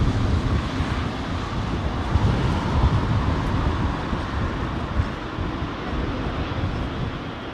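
A Saudia airliner at London Heathrow Airport roars continuously with a broad, rumbling engine noise under gusty wind buffeting, steady and fairly loud with no talk.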